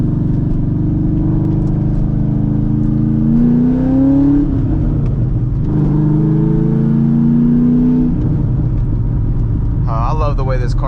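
A big-turbo C5 Corvette engine drones loudly up close, rising in pitch as it revs through gears with shifts between pulls; brief squeaky sounds near the end.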